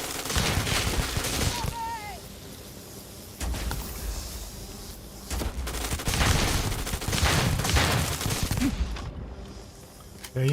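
Rapid gunfire from a sci-fi weapon in the space game Starfield, played in survival mode. The shots come in dense loud bursts across most of the stretch, with brief lulls between volleys.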